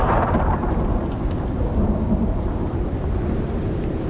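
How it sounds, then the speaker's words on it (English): Thunderstorm in the video game Icarus: New Frontiers, with a steady, loud wash of heavy rain and low rolling thunder rumbling continuously throughout, no talking. "that's quite the storm"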